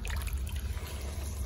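Water is poured into a large pot of Bihari-style chicken curry holding about 2.5 kg of chicken, making a brief, close, steady splashing rush.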